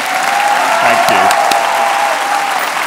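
Theatre audience at a conversation event with an actress breaks into loud, sustained applause, a dense roar of many hands close and full, while a voice briefly speaks over it partway through.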